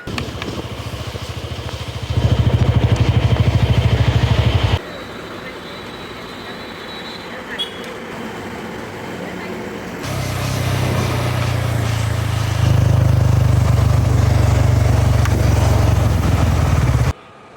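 Motorcycle engine running steadily up close, a low droning rumble that swells louder in stretches, dips to a quieter idle-like hum midway, then rises again before cutting off abruptly at the end.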